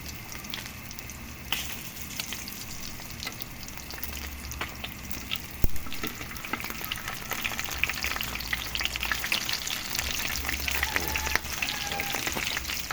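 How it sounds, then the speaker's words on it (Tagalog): String beans (sitaw) frying in oil in a pan, a continuous crackling sizzle close by with scattered pops and a brief stir or knock midway. "susunod naman natin pirituhin yung ating sitaw"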